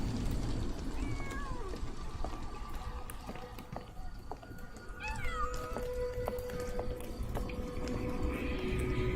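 A cat meows repeatedly in the Sherlock Holmes The Awakened video game, several short rising mews spread across the clip over a steady rumbling ambient game background.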